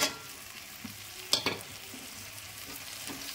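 Spices fry in hot oil in a pan while being stirred, a low steady sizzle broken by a few scraping clinks from the utensil.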